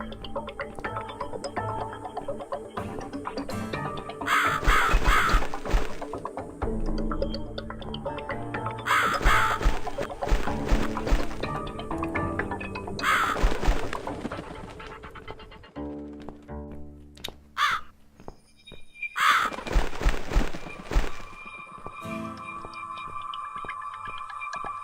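A crow caws repeatedly in The Cat Lady, a spooky horror video game, with harsh calls recurring in bursts over a dense, droning game soundtrack.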